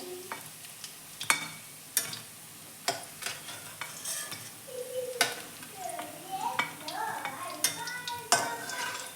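Chicken pakoras frying in hot oil in a home kitchen, a low bubbling sizzle under repeated close clinks and scrapes of a metal spoon against the pan as the pieces are turned and lifted out.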